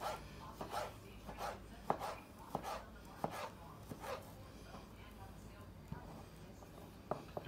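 Knife on a cutting board dicing vegetables for pico de gallo salsa, a series of sharp, irregular chops close by, with light kitchen background noise between strikes.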